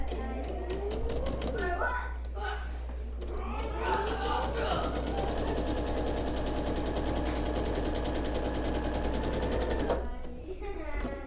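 A sewing machine stitches a straight line across quilt binding, running in a steady, loud continuous whir for several seconds after a few short starting bursts, close to the microphone.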